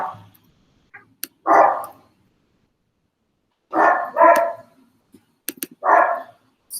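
Dogs bark in short separate bursts, a single bark, then a quick pair, then another, loud and close against an otherwise quiet room.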